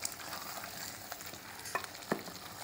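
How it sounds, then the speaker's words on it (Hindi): Cumin seeds fry in hot oil in a pan while a spoon stirs them, a steady close sizzle broken by a couple of sharp scrapes and clicks. "हम लोगों ने जीरा डाल दिया, उसको हम लोग हिलाते हैं।"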